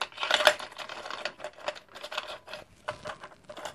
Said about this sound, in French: Je me bagarre avec mes petits ciseaux que j'avais achetés.